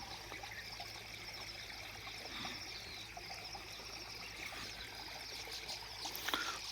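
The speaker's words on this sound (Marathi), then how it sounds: "या ठिकाणी पाण्याचा खळखळ करणारा आवाज" Water gurgles and trickles beside a village road among green hills after rain, a faint, steady flowing wash throughout with a slightly brighter splash near the end.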